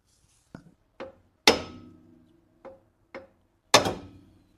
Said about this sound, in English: I guess I could just hammer the top of that.